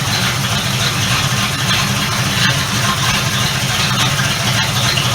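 A 1976 Ford LTD engine idling cold while it warms up, a steady low rumble holding even and unbroken from start to finish with no voices over it.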